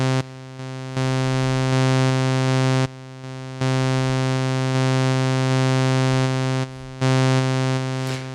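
Dave Smith Instruments Pro 2 synthesizer with a sample-and-hold LFO and slew: a sustained, harmonically rich tone that steps between levels every second or two, edges rounded by the slew, played alone and loud.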